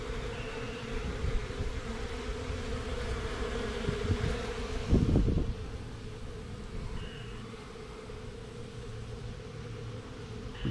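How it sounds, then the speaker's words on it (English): Honey bees fly in and out of a hive entrance on a cold, rainy-season day, a continuous close buzzing drone that swells briefly in the middle and then settles. "let me show you how much the bees are flying."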